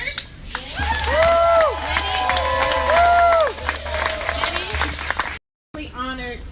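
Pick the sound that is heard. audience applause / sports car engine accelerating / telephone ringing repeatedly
audience applause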